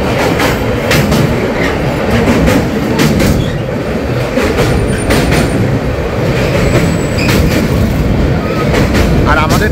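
Kanchanjungha Express, a new LHB-coach train from Sabroom to Sealdah, rolls steadily along the rails with continuous loud rumble and rhythmic clickety-clack of wheels, heard from inside the 3AC coach.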